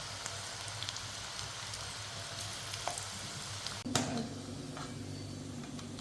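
Bitter gourd pieces deep-fry in medium-hot oil, like vada, with a soft, continuous crackling bubble. A brief utensil clatter breaks in midway.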